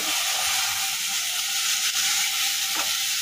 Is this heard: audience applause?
no